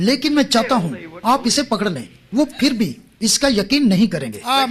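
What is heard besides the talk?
No everyday noise stands out behind the speech.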